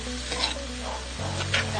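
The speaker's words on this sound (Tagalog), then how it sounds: "igisa natin ang bawang at sibuyas" Garlic and onion sautéing in a pan for a carbonara, giving a steady close sizzle with faint stirring scrapes and no talking.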